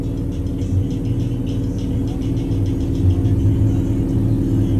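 Car with a nitrous-equipped Honda K-Series engine idling steadily up close, a continuous low rumble with a faint rattle and no talking.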